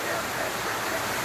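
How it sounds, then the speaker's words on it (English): Heavy rain pours down outside in Salvador, Bahia, a steady, broad wash of hiss heard from under shelter, continuous and fairly loud with no break. "Can you hear that? It's pouring again."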